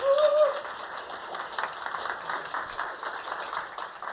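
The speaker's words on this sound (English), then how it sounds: "Give her a warm welcome applause." An audience gives a warm welcome applause for teacher Lisbeth at a main stage education hackathon event, steady moderate clapping after a brief higher tone at the start.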